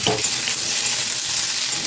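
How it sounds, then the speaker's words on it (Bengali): Pumpkin pieces frying in a pan produce a loud, close, continuous sizzle with a brief stirring clatter at the start, steady and unbroken by speech. "কুমড়োটা দিয়ে দিচ্ছি, ভাজা ভাজা করে নেবো।"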